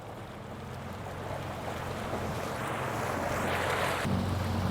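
A Torqeedo Travel XP electric outboard drives a small boat at full 1600-watt power, giving a steady rushing wash of water and wind noise that builds slightly louder over several seconds, with no talking.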